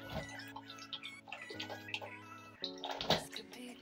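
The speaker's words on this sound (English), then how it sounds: "Rinse this bowl because I need to put them here." Water runs and splashes while a bowl is rinsed at a sink, with an uneven gurgling flow and a few clunks, fairly faint.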